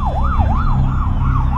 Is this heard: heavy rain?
no